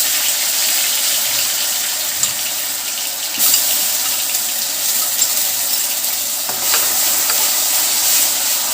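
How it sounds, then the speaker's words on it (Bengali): Ground spice paste hits hot oil with caramelised sugar in it for mutton keema ghugni, bursting into a loud, dense sizzle that surges at intervals as the paste is stirred, with no talking. "এবার আমাদের বাটা মশলাটা এতে দিয়ে দেব"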